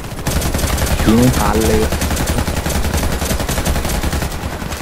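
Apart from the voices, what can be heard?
gunfire in Warface video game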